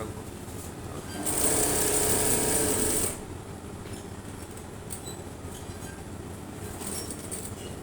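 A sewing machine stitches a square in one continuous line, a close, steady rapid whirring burst lasting about two seconds, then stopping to faint room noise and small handling clicks.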